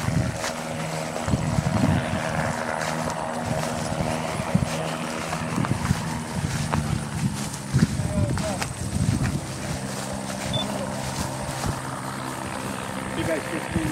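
An aircraft comes in to land, its engine or rotor a continuous loud rumbling drone under frequent talking voices.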